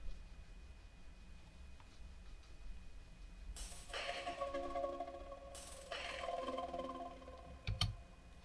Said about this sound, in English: The main lead pad sounds like this.